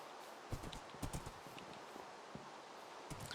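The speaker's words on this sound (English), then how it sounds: "let me get my horse away from these weirdos." Horse hooves clip-clopping in Minecraft, a handful of light irregular hoof steps close by against a steady ambient background.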